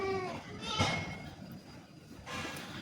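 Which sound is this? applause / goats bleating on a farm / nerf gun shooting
goats bleating on a farm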